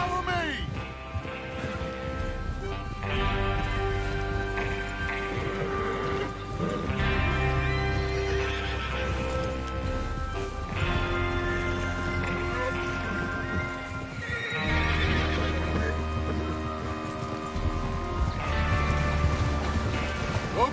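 Horses whinnying and hooves clip-clopping in Red Dead Redemption 2, steady and fairly loud under people talking and a musical score throughout.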